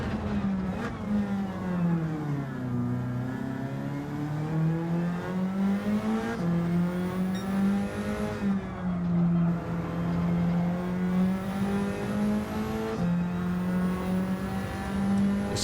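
A race car in the Gran Turismo 7 video game revs and accelerates through its gears, the engine note climbing and shifting steadily, loud and continuous with no voices.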